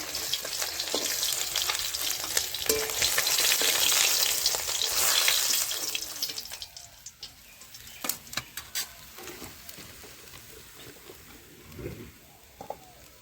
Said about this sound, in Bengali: আমার মাছ ভাজা হয়ে গেছে, এখন তুলে নিচ্ছি। লাল লাল করে ভেজে নিলাম।